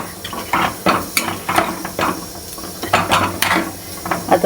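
Chicken pieces tipped into a pan of masala for homemade butter chicken give a clatter and soft sizzle, with stirring and pan scrapes in irregular bursts, close and moderately loud, no talking.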